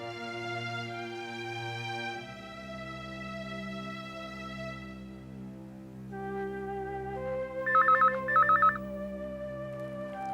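A telephone rings in two short, clipped electronic trilling bursts over steady background music. The rings are moderately loud, and no one speaks.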